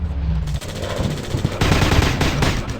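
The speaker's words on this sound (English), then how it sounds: "I'm shooting these fools up!" Rapid automatic gunfire in a commando shooter video game, loud dense bursts of shots close up, continuing with only a brief gap.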